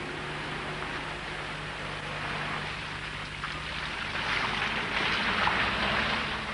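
Land Rover Defender descending a rough driver-training track in first low gear, its engine braking with a steady, droning mechanical rumble amid broadband rushing noise that swells slightly toward the end.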